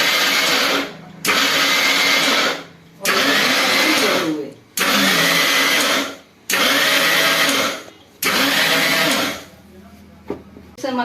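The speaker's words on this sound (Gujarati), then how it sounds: "મિક્સરમાં 2 વાર આમ આમ આમ ફેરવવાનો આટો" A kitchen mixer grinder pulses while grinding churma flour for village-style laddoos, with five loud whirring bursts separated by short pauses and a quieter tail at the end.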